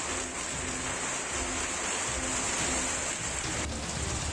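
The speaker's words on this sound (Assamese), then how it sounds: "ধাৰাখাৰ বৃষ্টিপাত হৈছে মহানগৰী গুৱাহাটীত" Heavy rain pours down in Guwahati, a steady, dense broadband hiss that holds at an even level throughout without breaks.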